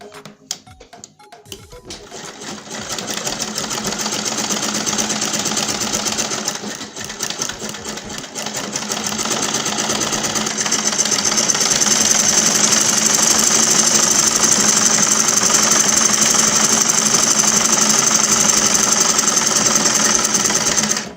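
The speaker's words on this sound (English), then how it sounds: "So I will sew from this point." A sewing machine stitches satin bonnet fabric for an Ankara headwrap, running in a continuous close, loud mechanical whir for about twenty seconds after a brief start, with no talking.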